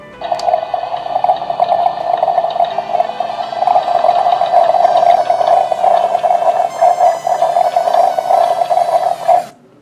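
A toy Magical Coffee Maker machine runs with a steady, continuous whirring and bubbling hum for about nine seconds, then stops abruptly; no one talks over it.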